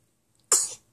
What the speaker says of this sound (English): Trying to sneeze?